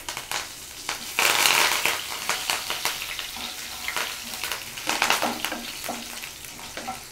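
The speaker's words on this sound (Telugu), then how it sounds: "పోపు దినుసులు కొంచెం ఫ్రై అయిన తర్వాత దీంట్లో కరివేపాకు వేసుకోండి" Curry leaves and tempering spices crackle and sizzle in hot oil, a close, busy frying hiss with sharp pops and stirring scrapes that flare loudest just after the leaves drop in.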